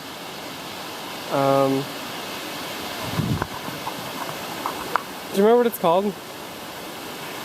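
Waimoku Falls on the Pipiwai Trail sends a steady broadband rush of falling water under the whole stretch, with people talking briefly over it and a short whistle-like tone near the start.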